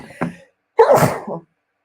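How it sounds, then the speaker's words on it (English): A short inhale followed by a single loud, sharp sneeze, close to the microphone, then silence. "I'm gonna sneeze, guys"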